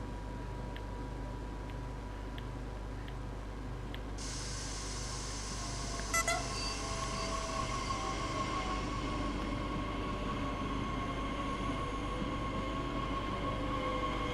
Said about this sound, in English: Oh, train coming the other way.